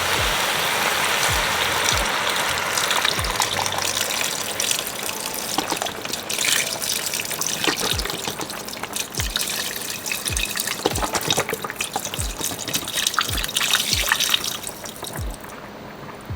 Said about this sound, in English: Add in some beef broth.